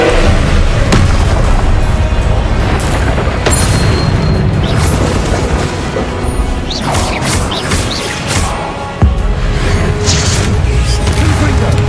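Repeated Confringo fire spells explode in the video game Hogwarts Legacy, producing loud booming blasts and crashing impacts one after another, mixed with whooshing casting effects and mechanical clatter over continuous dense game sound.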